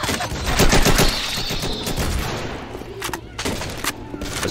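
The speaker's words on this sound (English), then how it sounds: "assault rifle" Rapid assault rifle gunfire in Left 4 Dead, a dense loud burst of automatic shots up close that thins into scattered shots toward the end, with other game noise underneath.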